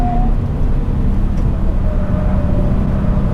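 A Toyota 86 TRD Handling Package with its Subaru-based engine runs loud and close inside the cabin, a steady low droning tone with a faint whine rising gradually above it.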